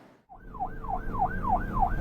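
A cartoon police car siren wails in a steady, rising and falling whoop cycling about every third of a second, loud and close over a low engine rumble, beginning abruptly after a brief quiet moment.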